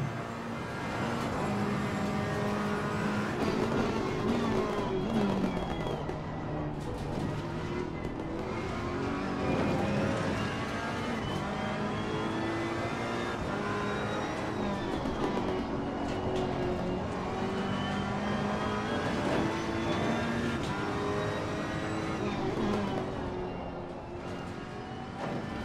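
A GT race car lapping Monza in Assetto Corsa Competizione, engine droning steadily and loudly throughout with rising and falling pitch through gear changes, no talk.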